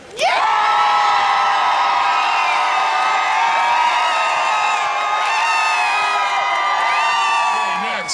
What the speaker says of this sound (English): You're going to applaud, scream, whatever you do.